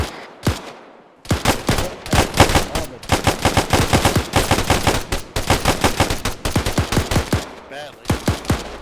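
Rapid bursts of automatic gunfire from a 7.62 weapon in a video game, loud and close, firing in long sustained strings with only brief pauses between them.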